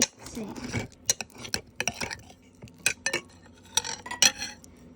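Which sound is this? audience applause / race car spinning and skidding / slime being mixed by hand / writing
slime being mixed by hand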